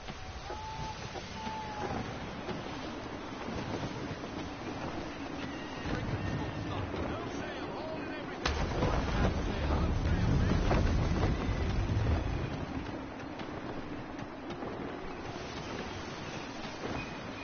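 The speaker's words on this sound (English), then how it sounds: "Gusty winds can be difficult to manage." Gusty wind while sailing a ship in Assassin's Creed 3: a steady rushing roar of wind over water, swelling louder for a few seconds midway before settling back.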